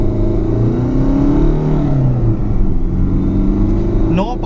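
A Ford Ikon car accelerating on a driving test: a loud, steady engine drone with rising pitch, heard from inside the car, with a voice briefly at the end.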